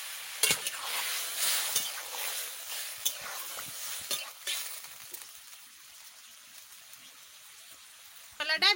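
Dry chillies, cumin and bay leaves hit hot oil with a crackling sizzle, loudest in the first seconds and then settling to a steady, softer hiss, with a few sharp pops near the end.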